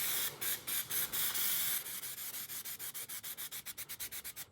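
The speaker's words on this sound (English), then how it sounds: "you want to stand like 10 or 12 or something like that inches back and just start spraying" Short hissing bursts of spray paint on a 2006 Mustang GT emblem, a few longer blasts at first, then a quicker run of brief even pulses, close and fairly loud, with no voices.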